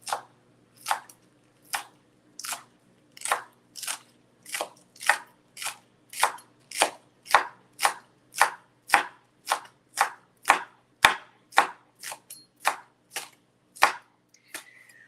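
A knife slices through sushi wraps made with Jazz Leaf on a cutting board, about twenty crisp, evenly spaced cuts in a steady rhythm, close and clear with nothing else around them.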